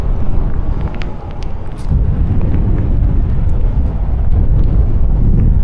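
Strong wind buffets the microphone on the Blackpool seafront walks on a rainy day, a loud, continuous low rumble with gusts swelling and easing.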